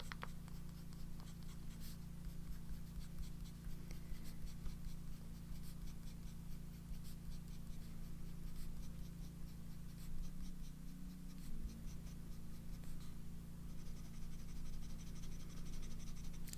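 A fountain pen with a double broad nib scribbles across paper in a steady, continuous scratchy rub, close and fairly quiet over a low background hum.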